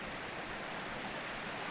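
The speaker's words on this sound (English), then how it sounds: "So this is the creek" Creek water rushing down near the falls at Benton Falls, a steady, soft broadband wash of flowing water heard at low level without any voices.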